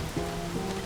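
Heavy rain pouring down in a steady, dense hiss, brief and continuous with no other sounds standing out.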